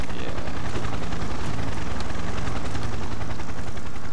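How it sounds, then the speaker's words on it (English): Helicopter noise in the Ace of Spades video game, a loud, steady rotor thumping with rapid, even beats that continues without a break. "Goddamn loud-ass helicopter noises"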